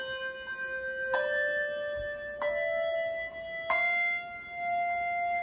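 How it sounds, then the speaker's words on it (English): Handbells rung legato in a practice exercise, three clear struck tones each stepping a little higher, every new bell entering as the previous one dies away, ringing smoothly with no gaps. "Or is it sounding legato, where as one bell goes down,"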